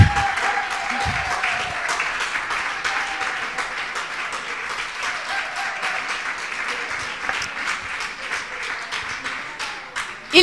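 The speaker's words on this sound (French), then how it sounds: "Sous vos applaudissements." Audience applause after children's names are read at an event, sustained dense clapping for about ten seconds that thins slightly near the end.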